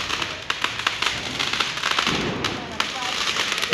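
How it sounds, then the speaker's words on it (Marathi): Rapid firecrackers popping and crackling in a dense, continuous string, with sharper bangs standing out and voices talking faintly underneath. "अरे पण ह्यांनी फटाके आणलेत कुठून एवढा वेळ चालतं ते?"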